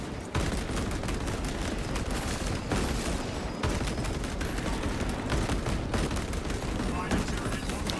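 Sniper gunfire in the Space Marine video game, a dense, continuous barrage of shots and impacts sustained loudly throughout with no pauses.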